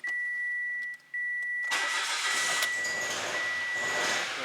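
A 2017 Mitsubishi Mirage with a 1.2L engine and a P0016 fault, running rough, cranks and starts over a steady dashboard chime, then revs loudly up close with a rising, uneven roar.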